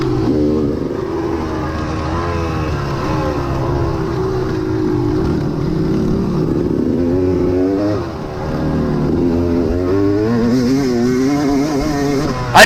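Motocross motorcycles racing at Ashcraft Farms, a steady loud engine drone with shifting pitch that holds throughout, dipping briefly midway before climbing again.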